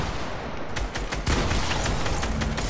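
SMG fire in the video game Fortnite, loud and close: rapid, sustained bursts of shots packed tightly together, getting denser after a short pause partway through, with almost no talking.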